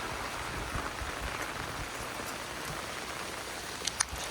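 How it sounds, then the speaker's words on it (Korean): Dense, steady patter of rain falling on a Backcountry 280 shelter, close and continuous, with a couple of brief sharper drips near the end. "빗소리 끝내줘."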